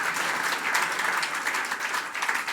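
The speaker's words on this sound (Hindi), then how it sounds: "बजाओ अपने लिए ताली।" Large audience at a religious discourse clapping for themselves, a continuous dense wash of many hands applauding together, loud and sustained, with no talking over it.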